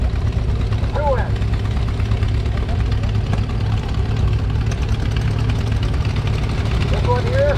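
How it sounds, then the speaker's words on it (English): A single-cylinder Pioneer tractor engine from the 1920s, built in Milwaukee, Wisconsin, runs steadily outdoors at a tractor show, a continuous low chugging rumble with faint voices in the background. "Single-cylinder tractor made in Milwaukee, Wisconsin by the Pioneer Manufacturing Company in the 20s."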